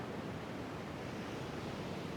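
Ocean waves wash on the shore in an even, unbroken roar of surf, steady and fairly soft, with no voices.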